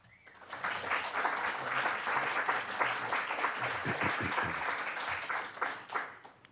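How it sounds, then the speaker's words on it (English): An audience at a candidate forum applauds steadily to welcome the candidates, a dense, even wash of clapping that swells in and holds for several seconds before tapering. "That was practice applause."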